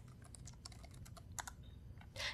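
Keys clatter on a computer keyboard as commands are entered at a DiskPart terminal prompt, a quick irregular run of light clicks ending in a louder burst, close and alone with no talking.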